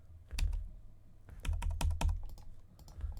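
Sharp computer mouse clicks while painting with a brush tool in Photoshop: several quick, close clicks in small clusters with short gaps, fairly loud and crisp, no voices.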